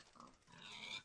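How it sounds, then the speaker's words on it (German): Minecraft pigs grunting, a couple of short faint oinks in quick succession, quiet and alone. "Schweine, Schweine, Schweine,"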